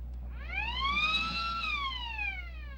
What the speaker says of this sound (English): You're literally jolted awake by a siren.